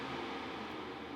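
An air purifier fan runs in its quiet sleep mode, a steady soft broadband whoosh with no breaks, low in level and alone.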